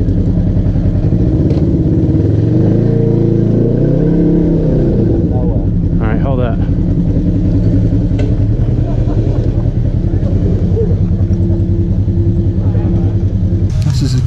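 An off-road vehicle's engine rumbles and revs on a trail at Windrock, rising in a swell early on before settling into a steady, close, loud drone with some clatter, while people talk over it.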